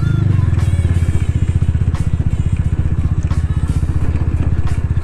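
A Tiger motorcycle being prepared for racing runs loud and close, its engine throbbing in a fast, even pulse with a harsh exhaust rasp and small rattles throughout.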